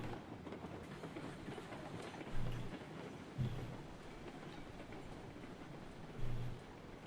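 Train cars rolling along track in the Railroads Online railway game, a steady low rumble with three brief louder knocks of wheels or couplings, no talk.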